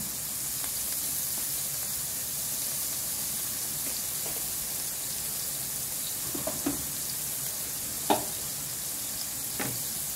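Galunggong fish sizzles steadily in a frying pan for sarsyadong galunggong, with a constant hiss and occasional soft scrapes and knocks of stirring.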